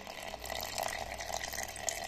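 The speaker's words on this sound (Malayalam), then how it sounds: "നമുക്ക് പാൽ ഒഴിച്ചു കൊടുക്കാം" Milk pours into blended mango puree for a shake, a faint, steady liquid trickle and splash close by, continuous and quiet with no voices.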